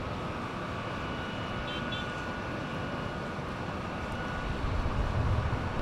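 A Delta airliner rolls for takeoff on the runway at LAX, a steady distant engine roar that swells slightly near the end, with faint radio chatter.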